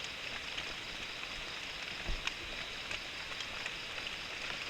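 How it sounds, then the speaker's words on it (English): Steady rain patters across the Malaysian jungle at night, a constant soft hiss with scattered drop ticks and a couple of heavier thuds, close and fairly quiet with no voices. "So the rain started."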